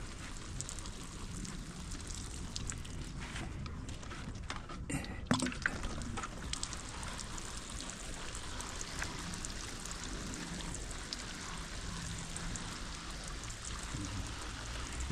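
Hand-watering plants at home, a steady trickle and splash of water running for the whole stretch, fairly close, with a brief bump partway through and no talking.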